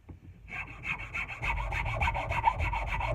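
A hand rasp files the wooden eye of a tool handle, working only the upper part to smooth it, giving steady repeated rough strokes, close and moderately loud, starting after a brief quiet moment with no voices.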